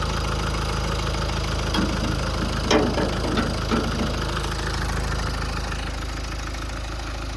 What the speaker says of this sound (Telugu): నేనైతే బానట్ అయితే ఓపెన్ చేసిన, ఇంజన్ స్టార్ట్ చేసిన. మీరు ఇప్పుడైతే ఇంజన్ సౌండ్ వినొచ్చు.